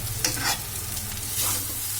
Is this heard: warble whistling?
no